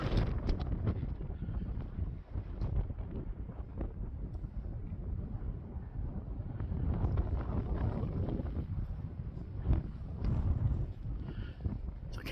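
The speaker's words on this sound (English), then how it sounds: "It's pretty breezy up here." Strong, steady wind gusting across granite boulders on an exposed hilltop, roaring and buffeting the microphone continuously throughout, close and loud with no voices.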